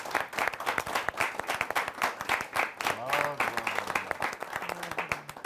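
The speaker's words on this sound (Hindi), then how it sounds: "ऐसे दिनेश रघुवंशी जी का एक बार हम भरपूर तालियों से स्वागत करते हैं।" Audience applause welcoming a poet at a Hindi poetry gathering, dense rhythmic clapping throughout with someone speaking over it partway through.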